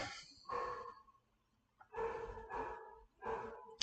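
Dogs bark in three short bursts at a distance, fairly faint, with quiet pauses between them.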